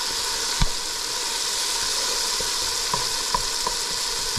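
Onions and tomatoes fry in a pan with a continuous close hissing sizzle, punctuated by a few soft knocks and clicks of stirring, and no voices.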